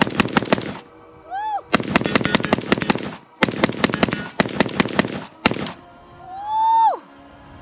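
A Century Arms VSKA AK-47 rifle fires several loud, close bursts of rapid shots separated by short pauses, with a person whooping between strings.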